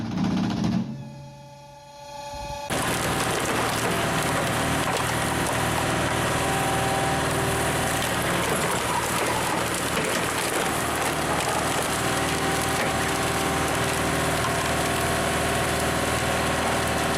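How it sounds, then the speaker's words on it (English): A diesel-powered log splitter, a green super splitter with an 80 HP turbo diesel, runs steadily in a timber yard, a loud continuous mechanical engine drone after a brief quieter start. "The roar of the engine and the crackling of splitting would blend into a distinctive industrial symphony"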